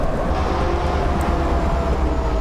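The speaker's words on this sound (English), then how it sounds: "Be a good train and slow down." Caltrain commuter train in Train Simulator 2018 on the San Jose to San Francisco run, a steady loud rumbling drone of the rolling train with no pauses and no talk.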